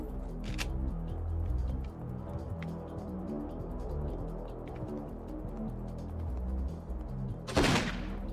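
Assault rifle fire in the PS2 action game Don 2: The Game: fairly faint, rapid repeated shots over a low rumbling game backdrop, with a sharper burst near the end.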